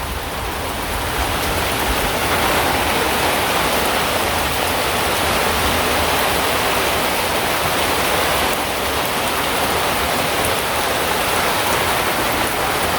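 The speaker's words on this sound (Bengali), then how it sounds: "এত বাতাস হচ্ছে।" Strong wind roars steadily through a village during a storm, a dense, unbroken rushing noise that stays loud and close for the whole stretch with no voices.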